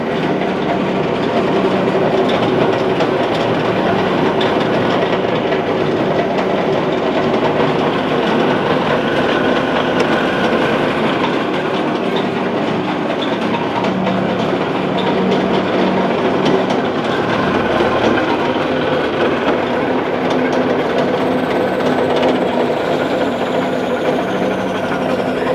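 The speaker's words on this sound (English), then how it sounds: "It normally rotates at a speed of 700 to 800 rpm." A top-driven laboratory centrifuge for filtration runs at roughly 700 to 800 rpm, making a loud, steady mechanical roar with a rattling, ratcheting texture that holds unbroken throughout.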